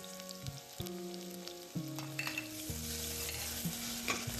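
Onion, cloves and crushed garlic frying in a pan, giving a quiet steady sizzle punctuated by several distinct clinks and scrapes of a spoon stirring against the metal, with no voices.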